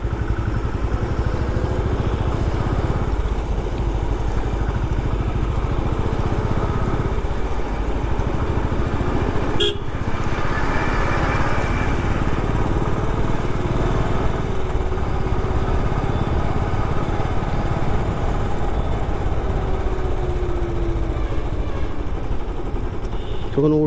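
A motorbike rides along a road near Navi Mumbai on the way to the Mhasa fair, its engine droning steadily and loudly throughout with constant road and wind noise and no pauses.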